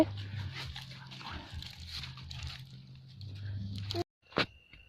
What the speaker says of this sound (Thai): ลูกหมา